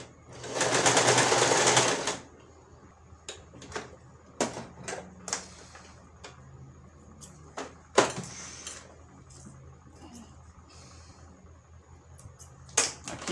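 Domestic sewing machine stitching fabric for a bowl holder, running fast in one loud, steady burst of about two seconds, then quiet handling clicks and short taps from repositioning the cloth.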